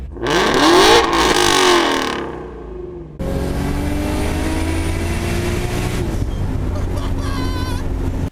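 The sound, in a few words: Mustang GT350 exhaust revving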